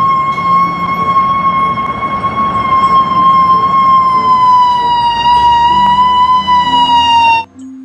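A toy ambulance's loud electronic siren wails steadily close by, its tone dipping slightly in pitch before it suddenly cuts off.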